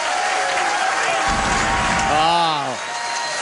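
A crowd at a professional bowling match cheers and applauds, a loud, dense roar of clapping and shouts that peaks as a commentator talks over it and then fades.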